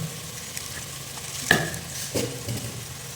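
Mustard and fenugreek seeds frying in hot oil for a Tamil fish curry: a low steady sizzle with a sharp spoon clink and a couple of quick stirring scrapes, no talking.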